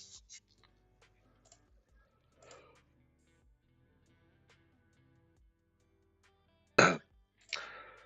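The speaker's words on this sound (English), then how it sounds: "Sorry, I had to cough for a second." After a long near-silent stretch, a sudden sharp cough bursts out close by, followed quickly by a second, softer cough.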